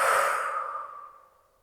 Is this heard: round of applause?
no